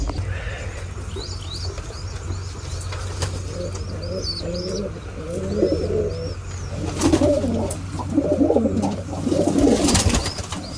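Pigeons in a backyard pigeon cage coo steadily and overlap one another, with a few higher chirps and small rustles around them; the sound is fairly near and continuous, with no talking.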